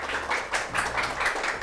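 An audience at a Korean lecture show claps to welcome a professor on stage: a short, dense burst of steady group applause, fairly close and even in loudness, with no talking over it.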